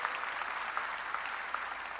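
Church congregation clapping during a sermon: a brief, even patter of many hands applauding at a moderate distance, with no talking.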